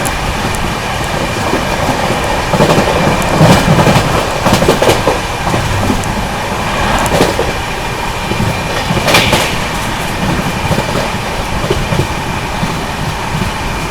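Onboard the Maharashtra Sampark Kranti Express skipping Vapi station, a loud sustained rumble of wheels and rattling coaches carries on, swelling at moments with sharp clatters as the train speeds through without stopping.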